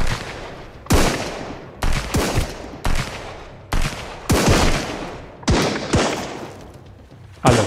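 Loud gunshots ring out in the survival game Sunkenland, about eight sharp, separate reports spaced roughly a second apart, each with a short echoing tail.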